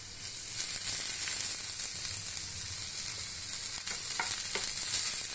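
Chopped tomato and green chili fry in a pan for a spicy dal, giving a loud, steady sizzle and hiss with faint stirring scrapes throughout and no speech.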